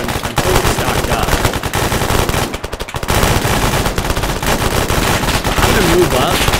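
Loud, sustained machine gun fire in Arma 3 during a New York City zombie attack, a dense rapid stream of shots with only a brief pause midway.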